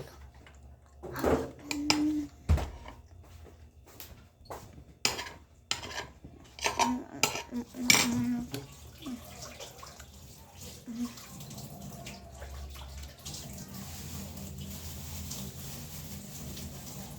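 Dishes are washed by hand at a sink, with scattered clinks of cutlery and plates knocking together near and fairly loud. Running tap water settles into a soft, steady flow toward the end.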